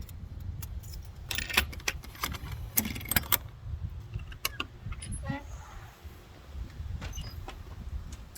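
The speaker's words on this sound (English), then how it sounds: "I'm just gotta get the keys out and unlock the garage." A bunch of keys jangles and clinks repeatedly up close while a garage is being unlocked on a farm, the metallic rattles coming in bursts over a low outdoor rumble.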